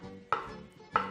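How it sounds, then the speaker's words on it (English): A kitchen knife slices through capsicums on a cutting board, two crisp, close chopping knocks spaced about half a second apart. "We're going to just slice our capsicums, whichever way you'd like."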